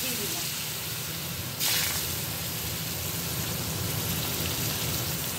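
Raw mango pieces dropped into hot oil with black mustard seeds give a loud, steady frying hiss throughout, with a brief surge of sizzle as the mango goes in early on.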